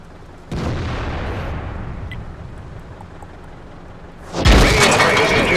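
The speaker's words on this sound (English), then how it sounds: "SU-152 is firing heat at me" Heavy cannon blasts from a World of Tanks battle as an SU-152 fires HEAT shells: one sharp boom with a rumbling tail, then a louder impact crash with a harsh, noisy wash late in the clip.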